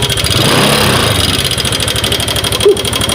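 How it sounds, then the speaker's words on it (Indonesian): A Honda Vario 125 motorcycle engine runs rough with a knocking fault, a loud close idle made of rapid uneven pulses and a harsh clatter, with a brief heavier thump near the end. "suara mesinnya ternyata parah banget ya"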